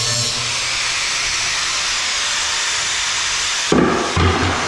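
Excess threaded rod on a van roof bar mount being cut with an angle grinder, a continuous loud high-pitched hiss that stops abruptly, followed by two brief bursts of cutting.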